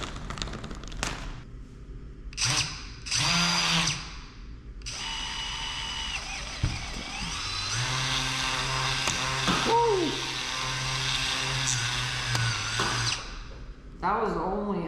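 A homemade Nerf sniper blaster's motor, speed-controlled by a potentiometer, whirs up at several power settings, rising and falling in pitch in separate bursts, with people talking between runs.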